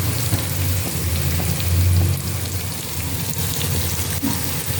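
Onions sizzle steadily in a hot pan with a pinch of salt, a dense crackling hiss that continues without a break and with no voices.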